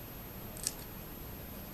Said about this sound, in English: This is a little bit long, so I'm just going to cut a little bit more off the bottom.